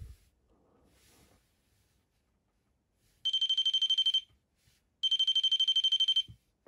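REM pod ghost-hunting device in a doll sounds a loud, steady electronic alarm tone in two bursts of about a second each, separated by a pause, with near silence around them.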